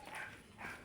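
A dog barking outdoors near a court, two quick muffled barks in under a second, mid-distance and fairly loud.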